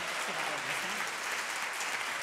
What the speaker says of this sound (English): I just want to say another round of applause.